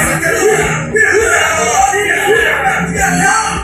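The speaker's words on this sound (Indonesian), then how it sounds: "Lalu malam yang sunyi itu pun dipecahkan dengan teriakan keras." A loud yell breaks a quiet night in a dramatized attack scene, with raised, strained voices shouting over a dense, continuous background of crowd-like commotion.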